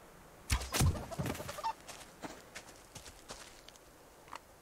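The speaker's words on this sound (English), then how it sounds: "Ooh, chicken." Quiet clucks and scratchy footstep-like taps from a chicken in the survival video game Subsistence, a few clustered bursts early, then sparse, faint sounds against a low background.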